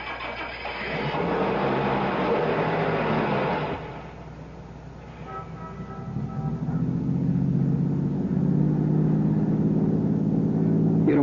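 A car engine cranks and catches, idles briefly, then revs and settles into a steady driving hum in a radio drama sound effect, close and continuous with no talk over it.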